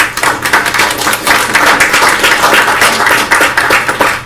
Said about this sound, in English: If you could just join me in giving them all a round of applause